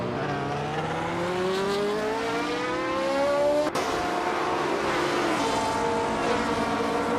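Race car engines roar in a racing video game as two cars run nearly side by side battling for position, steady rising engine pitch with gear shifts and a brief sharp break midway, loud and continuous.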